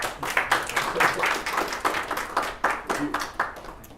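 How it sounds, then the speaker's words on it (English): An audience at a medical lecture on nasal cavity disease and rhinology gives a round of applause, a brief scattering of individual claps from a small room, fairly close and uneven. "So a round of applause."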